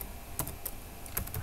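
Typing on a computer keyboard while writing CSS code, a few quick close key clicks at irregular intervals over a quiet room hum.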